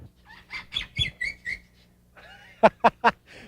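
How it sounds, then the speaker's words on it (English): A resident parrot at a long-established place squawks and whistles close by, a run of rising whistled calls followed after a pause by three sharp, loud squawks. "Well, that's a parrot."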